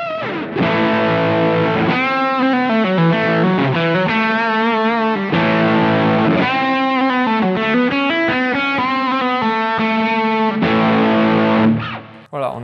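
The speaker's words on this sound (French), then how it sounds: "Assez caractéristique de la pédale de distorsion, évidemment, juste pour le plaisir. Je branche les deux et là..." An electric guitar played through a distortion pedal, with another effect pedal chained after it, rings out in thick, sustained, saturated chords and bends, loud and continuous for about twelve seconds before cutting off.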